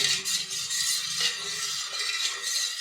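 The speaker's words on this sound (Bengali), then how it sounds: "এখানে কিন্তু এক কাপ কর্নফ্লাওয়ারের সঙ্গে 3 কাপ আঙ্গুরের রস দিতেই হবে। এটা ভালোভাবে মিশিয়ে নিচ্ছি।" A spoon stirs cornflour into grape juice in a bowl, one cup of flour to three of juice, making a steady scraping swirl with light clinks against the bowl throughout.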